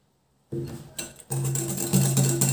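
Eggs and sugar being whisked in a bowl for a pan-cooked cake, a steady clattering scrape of whisk against the bowl that starts abruptly, pauses briefly, then carries on close and fairly loud.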